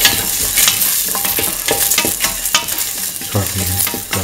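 Garlic and salt frying in a pan for a split chickpea and ivy gourd curry, a loud steady sizzle broken by frequent sharp stirring scrapes.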